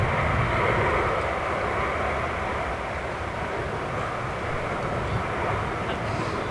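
Ilyushin aircraft engines roar steadily at Manchester Airport, a loud, broad, continuous rumble that holds for several seconds with no clear voices over it.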